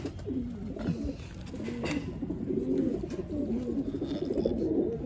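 A pet pigeon coos softly and repeatedly at close range, its low rolling calls running continuously against a faint background hiss.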